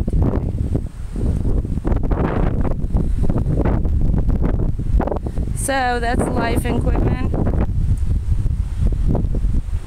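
Strong wind blows hard across the microphone outdoors, a constant rough roar with a bird briefly chirping midway, while a person talks.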